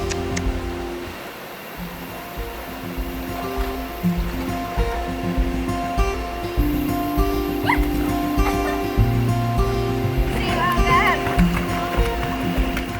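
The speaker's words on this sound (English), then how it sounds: "She truly loves animals and wanted to play with her dog Mob here" A dog barks and yips by the ocean on a Costa Rica coast near Golfito, short bursts scattered over continuous surf and wave wash, fairly close, with people talking throughout.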